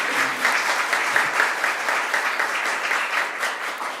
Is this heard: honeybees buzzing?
no